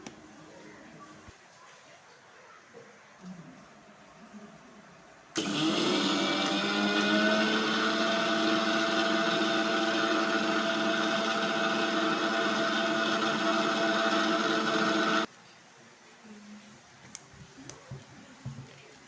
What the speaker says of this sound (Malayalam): ഞാൻ ഒരു അരക്കപ്പോളം പഞ്ചസാര എടുത്തിട്ട് മിക്സിയുടെ ജാറിലേക്ക് ഇട്ട് കൊടുക്കലാന്ന്